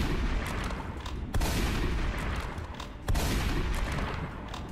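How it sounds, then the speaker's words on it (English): Double-barrel shotgun in the Doom mod Venturous: heavy blasts at roughly even intervals over a constant loud wash of roaring game noise, each shot a sharp thump standing out from the din. "Oh, hey, double barrel. Nice. Love me some shotgun."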